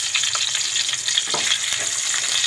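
White onion hits a pan of frying beef steak, setting off a steady, close sizzle with light stirring and scraping throughout, no voices.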